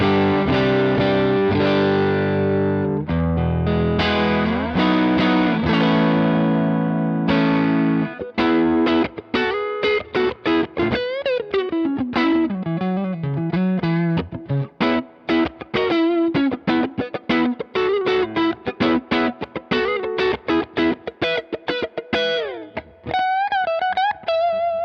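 An electric guitar runs through a Donner Dumbal overdrive pedal in symmetrical clipping mode, loud and gritty. Sustained distorted chords give way to quick picked notes and phrases, with no talking.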